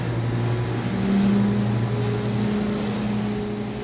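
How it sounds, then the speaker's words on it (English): Dye pumps running at startup: a loud, steady mechanical hum with a constant low drone and a faint whining tone, holding an even level throughout with no voices. "I'll go ahead and turn both these dye pumps on"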